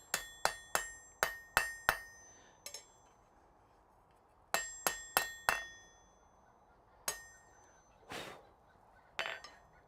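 Sharp ringing hammer blows on hot metal over an anvil in a smithy, in quick clusters of five with pauses, then a few scattered strikes, close and bright with no talking.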